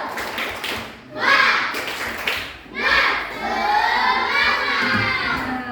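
Schoolchildren in a dance lesson doing a rhythmic spirit clap chant, with sharp bursts of group clapping followed by loud, overlapping young voices shouting and chanting together.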